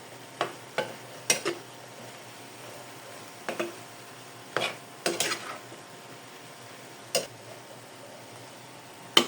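A spoon stirs menudo with hotdog and soy sauce in a sizzling pan, giving sharp scraping clinks at irregular intervals over a steady background sizzle, with no talking.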